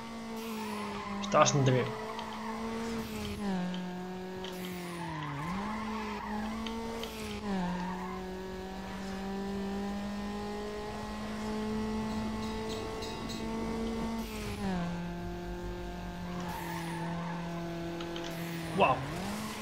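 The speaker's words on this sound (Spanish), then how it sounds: "Tiras de freno de mano y usa nitroso." A car in Need for Speed Underground skidding through tight corners using the handbrake and nitrous, its engine droning steadily while tires squeal in repeated bursts and brief thuds, with someone talking over it.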